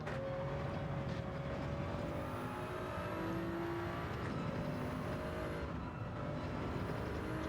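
GR Supra Racing Concept race car in Gran Turismo 7 at Lago Maggiore, its engine droning steadily with shifting pitch as it laps, a continuous fairly quiet motor tone with faint high whine and no talk.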